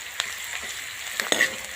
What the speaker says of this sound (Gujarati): પિંક કલરનું થાય ત્યાં સુધી શેકવાનું છે